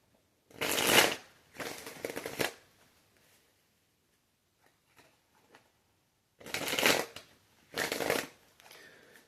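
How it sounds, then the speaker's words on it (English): Tarot cards are shuffled by hand in four crisp riffling bursts, two close together, then a quiet gap with faint taps, then two more, loud and close. "Couple more shuffles."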